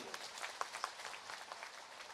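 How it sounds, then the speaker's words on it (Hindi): Crowd applause at a BJP political rally in India, a steady wash of many hands clapping at a distance, fairly faint, with a couple of sharper claps standing out. "एक बार मेरी बात से सहमत हो तो जोरदार ताली बजाओ इस बात के लिए"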